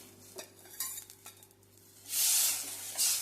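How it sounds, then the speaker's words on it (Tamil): Tamarind extract poured into a hot tempering for egg kara kulambu bursts into a loud, hissing sizzle, preceded by light stirring and utensil clinks, then flares again briefly. "அதை எடுத்து தாளிப்பில் ஊற்றணும்"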